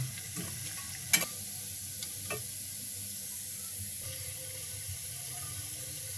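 Coconut pitha frying in a wok, a faint steady sizzle beneath a couple of soft utensil clinks, quiet and alone without voices.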